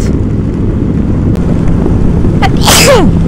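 A single loud sneeze bursts out near the end, over a steady background rumble of traffic or wind.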